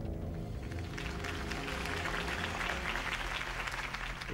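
Crowd applause after Harvey Dent's campaign speech in Batman: The Telltale Series, a steady, fairly faint wash of clapping that holds evenly for a few seconds.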